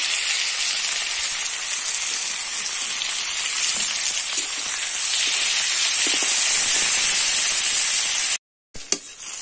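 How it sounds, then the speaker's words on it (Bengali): Turmeric- and salt-rubbed fish dropped into hot oil in a heated wok, giving a loud, steady crackling sizzle that holds for several seconds before a brief cut and a sharp spit, with no talking. "মাছটা দিয়ে দিলাম"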